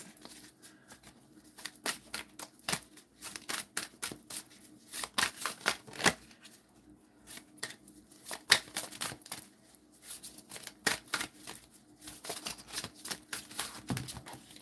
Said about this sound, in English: I'm going to reshuffle these because I'm not sure if they're really supposed to come out